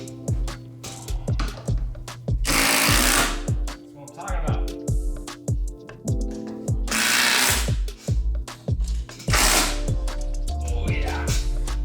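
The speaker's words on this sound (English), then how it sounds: "So we're gonna finish screwing those ones in" A power driver drives screws into a wooden rail while a hidden home storage space is being built. It gives repeated short whirring bursts with clicks and knocks between them, loud and close.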